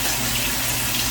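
Hot water pouring steadily into a pot for beef stroganoff with bouillon, a close, loud, continuous splashing rush with no break and no voices.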